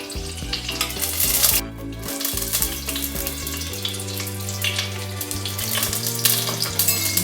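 Oil heats and sizzles in a pan used to fry chicken for buttered chicken, a steady frying hiss with occasional clinks, heard under loud background music.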